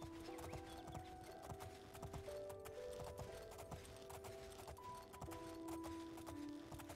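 Horse hooves clip-clop in the video game Oblivion, faint rhythmic steps at an easy pace over a low droning game soundscape, with no talking.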